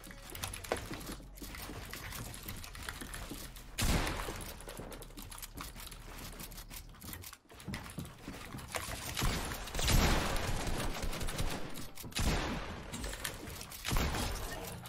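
Rapid bursts of gunfire from a Fortnite Creative 1v1 build fight, crackling in dense clusters with brief lulls, loud and close throughout, no talking.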